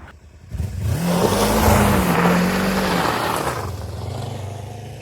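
A Kawasaki Versys-X 300 motorcycle engine revs up to a loud, rising roar, holds briefly, then eases back down to a lower idle, close by.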